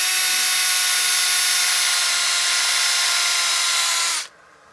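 A power sander fitted with a 220 grit disc whines steadily and loudly on a wood platter for about four seconds, then cuts off abruptly, leaving faint room noise.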